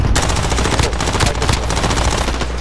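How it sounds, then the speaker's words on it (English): Gunfire in the video game Call of Duty: Warzone on Rebirth Island: loud, close bursts of rapid automatic shots blurring into continuous heavy fire. "I opened fire on them"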